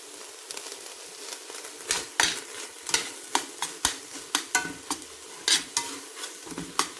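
Ginger stir-fries in a pan with meat juices for spaghetti, giving a soft steady sizzle broken by repeated sharp clicks and scrapes of a utensil against the pan, close up and without speech.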